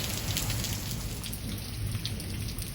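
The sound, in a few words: heavy rain pouring down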